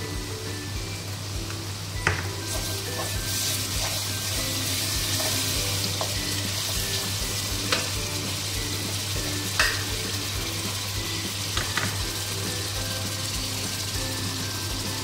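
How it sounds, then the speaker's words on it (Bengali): Garlic and chili paste frying in a pan as chicken kosha cooks, a steady close sizzle throughout with occasional louder spits and pops, no voices. "এবারে রসুন আর লঙ্কা বাটা খানিকটা দিয়ে দিলাম।"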